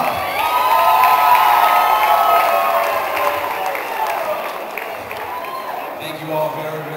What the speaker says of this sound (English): let's give a big round of applause for tonight's promoter,